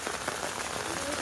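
Rain pours steadily on a rainy school morning in Murshidabad as students wait outside a locked primary school, a dense continuous hiss with faint voices in the background.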